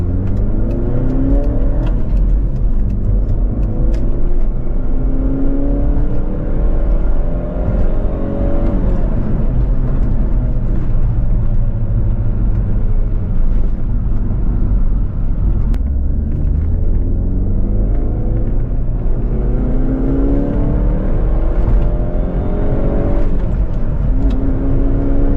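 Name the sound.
car engine accelerating at high revs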